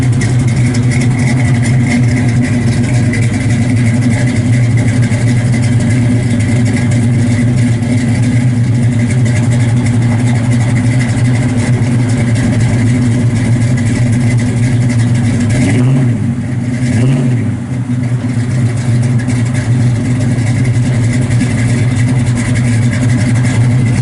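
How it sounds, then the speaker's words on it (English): A 1967 Chevrolet C10 shortbox custom pickup with dual exhaust rumbles loudly at idle, with two quick throttle blips near the end, close and steady with no talk. "So it's got duals all the way off the back. Good sounding truck."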